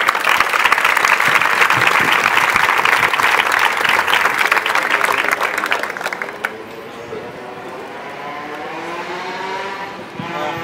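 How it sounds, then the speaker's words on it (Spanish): Loud, dense applause from a crowd at a poetry reading in a library for about six seconds, then fading out as a few scattered claps trail off into room noise. "Un aplauso para él."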